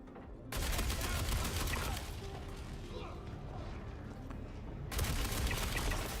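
NPC gunfire in Star Citizen comes as bursts of loud close shots with mechanical clatter, stopping briefly in the middle and resuming near the end, with a voice over part of it.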